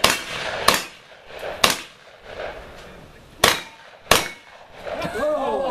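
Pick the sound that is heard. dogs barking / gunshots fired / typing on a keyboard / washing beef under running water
gunshots fired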